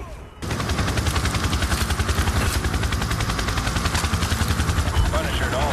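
Rapid video game gunfire rattles continuously and loudly, dense bursts of automatic weapon shots over a low rumble, with no clear pause.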